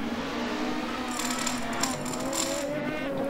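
A race car engine drones at high revs in first gear through a chicane while a rapid, buzzing vibration from running over a rumble strip kerb rattles through for a few seconds.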